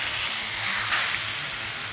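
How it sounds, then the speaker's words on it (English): A T-bone steak sears in a hot pan with a steady, bright hiss and sizzle, close and even, holding without pause. "We're going to put the steak into the pan, laying it away from us to stop any splatter."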